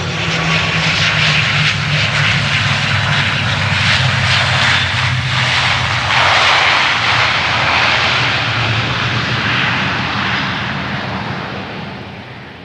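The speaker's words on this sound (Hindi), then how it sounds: "ओसाका हवाई पट्टी पर विमान उतरा।" An airplane lands on an airstrip at Osaka, its engine roar loud and steady, a broad rushing drone that slowly fades toward the end, with no voices.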